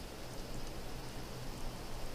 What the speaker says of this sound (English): this damn rain